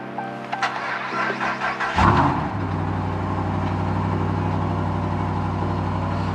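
RAM 1500 pickup truck engine turns over after a few clicks, fires up with a surge, then holds a steady, close idle with no talking.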